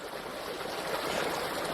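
A creek flowing at a campsite, a steady broadband rush of moving water that holds even and continuous throughout, close by and fairly loud with no voices.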